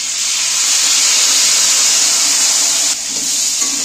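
A marinated spice paste hits a hot pan and fries with a loud, steady hiss and sizzle that holds nearly unbroken, then dips slightly near the end.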